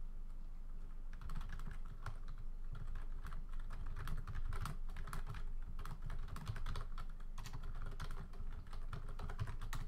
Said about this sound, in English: I have to type something to an admin.